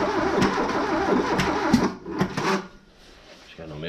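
Volkswagen Golf MK3 Colour Concept, long stored in a barn with a rotten battery, cranking and trying to start, a rough churning engine sound that cuts out and sputters again, with people talking nearby.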